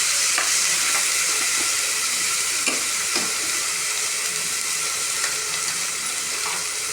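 Ginger and garlic sautéing in a pan for vegetable rice give a steady, close, loud sizzle with a few soft stirring clicks, and no one talks.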